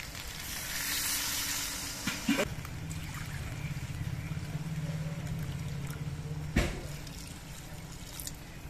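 Water, about twice the amount of the rice, is poured into a hot pot of fried rice and fish head for muri ghonto. A steady hiss and sizzle builds, then shifts into a lower bubbling, with a sharp knock near the end.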